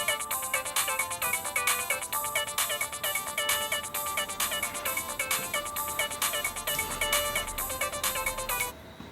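A phone plays a repeating electronic ringtone, a bright melodic pattern cycling steadily and loudly for several seconds before it stops, with no talking.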